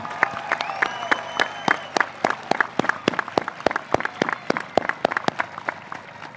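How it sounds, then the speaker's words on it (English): Steady applause from a high school graduation ceremony audience, many hands clapping in a dense, sustained patter without cheering or voices standing out. "Let's give them a round of applause for a job well done."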